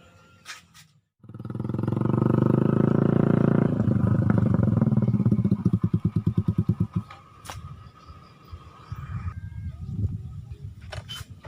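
A rented motorcycle engine sputters to life and runs with a loud, steady rumbling idle, then breaks into uneven chugging pulses and dies down to a rough, faltering idle, with a few sharp clicks, close by and without speech.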